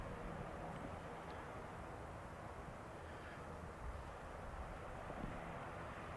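An ATR turboprop arriving at Manchester from Dublin on a stormy day, a distant low engine drone blended with wind rumble, steady and faint with no talk.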